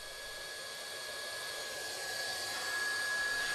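Hot air welding gun blowing steadily through a speed nozzle while welding a vinyl floor corner, a continuous hissing airflow with a faint steady whine, close and unchanging, no voices.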